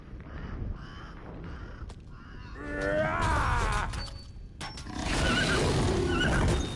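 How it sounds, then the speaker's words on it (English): Horse neighing in The Dwarves video game, a few whinnies and snorts amid game sound effects, moderately loud and close, with a brief pause between bursts. "Es el puto caballo de los cojones."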